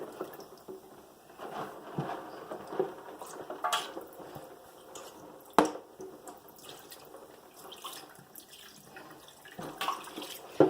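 Water pours out of a container of Lego pieces in a faint, uneven trickle with drips, small splashes and light plastic clicks scattered through it.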